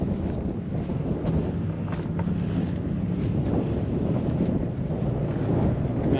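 Strong wind buffets a truck at King of the Hammers, a loud, constant rushing roar with gusty low rumble filling the whole stretch, no voices heard.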